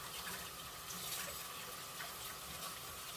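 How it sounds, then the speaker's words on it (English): Tap water runs in a steady, continuous gush into a kitchen sink while a hand is rinsed off during cinnamon roll baking, close and filling the whole moment with no talk. "let me rinse my hand off"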